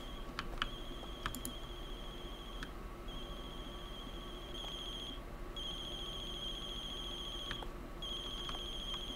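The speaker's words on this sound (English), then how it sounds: "Is that the phone?" A telephone rings repeatedly inside a horror video game set during a closing shift, sounding in steady bursts of electronic trills over a low ambient hum, with a few faint clicks around it; no one talks.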